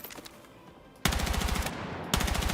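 Automatic assault rifle fire in the video game Battlefield 6: two loud, rapid bursts of evenly spaced shots, each lasting about a second, following a quieter moment with faint clicks.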